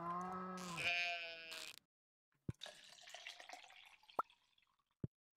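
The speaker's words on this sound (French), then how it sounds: "C'est un mouton, ça, on va éviter de le traire." A sheep in the farming game Stardew Valley Expanded gives a clear, wavering bleat, then quieter game effects follow with a few sharp drip-like clicks spaced apart.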